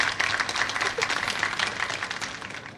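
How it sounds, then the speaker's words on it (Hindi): Classroom students clapping together in a steady, dense patter of applause that holds at an even level throughout, with no voices over it. "चलो बच्चों, सब लोग इसके लिए तालियां बजाओ।"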